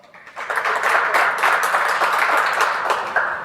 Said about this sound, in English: we should give them all a round of applause as well